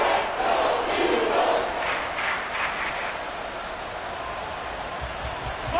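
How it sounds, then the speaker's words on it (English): Stadium crowd noise from the Madden 24 football video game, a broad steady roar of cheering fans late in an Eagles game, louder at the start and easing slightly, with no clear talk over it. "This crowd doing all they can."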